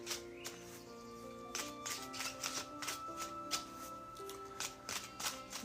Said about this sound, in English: Alrighty, the tarot is shuffled into the deck.